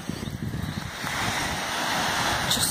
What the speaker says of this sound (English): can you hear them waves? How calming is that?